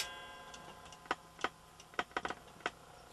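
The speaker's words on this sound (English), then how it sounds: "I have the cuckoo clock here. It wakes me up every hour" A cuckoo clock ticks quietly indoors, with irregular small clicks and taps spaced unevenly over a faint steady hum.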